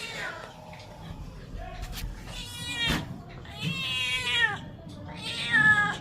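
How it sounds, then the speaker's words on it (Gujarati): A visiting cat meows several times near a house, drawn-out plaintive cries rising and falling, fairly faint against quiet background noise, with a bit of soft talk nearby. "અમારા ત્યાં એક બિલાડી આવે છે, જો બહુ મસ્ત છે"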